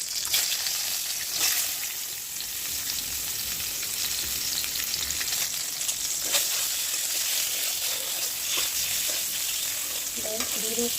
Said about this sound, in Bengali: তেলটা ভালো করে গরম হয়েছে ডিমগুলো আমি আস্তে আস্তে দিয়ে দেবো